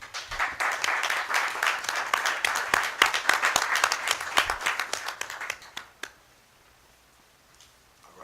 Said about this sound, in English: Can we please applaud all of these accomplishments at this time